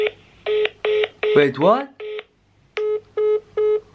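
A phone call plays a series of evenly spaced ringback tones, broken by a short burst of talk, then a few more regular rings, loud and close.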